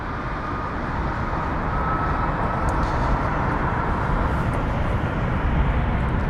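An airliner on the Orlando flight takes off at London Heathrow, a steady, broad jet roar that holds at full strength and swells slightly throughout, with no voices.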